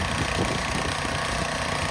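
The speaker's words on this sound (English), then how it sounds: "I'm going to run the power ox now at full throttle a little bit." A Power Ox 240 walk-behind tractor engine at full throttle while cultivating, a steady close drone that holds at an even level throughout.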